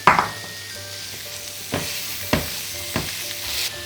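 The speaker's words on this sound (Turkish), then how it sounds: "Şimdi soğana kıymayı da ekliyorum ve de kıyma pişene kadar kavurmaya devam ediyorum." Onion and minced meat fry in olive oil in a pan with a close, steady sizzle, broken by several sharp spatula scrapes and knocks as the mixture is stirred. No one speaks.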